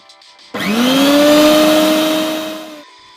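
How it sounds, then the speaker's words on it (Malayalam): Electric blender blending raw mango with ginger and green chili for juice, a loud close motor whine that spins up sharply, holds a steady pitch for over two seconds, then cuts out. "എന്നിട്ട് നന്നായി അടിച്ചെടുക്കാം."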